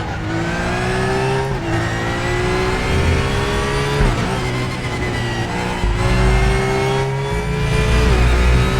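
Race car engine in the RaceRoom Racing Experience sim game, held loud and near the rev limiter with steady high-pitched whine, brief dips at gear changes around two, four and six seconds, no talk.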